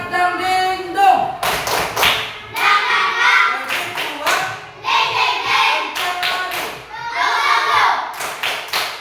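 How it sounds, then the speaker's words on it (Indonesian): A class of children performs a rhythmic clapping cheer led by a teacher in a classroom, sharp clap bursts repeating in patterned groups with chanting voices mixed in throughout. "Tepuk semangat dan dingdung biar belajarnya lebih semangat."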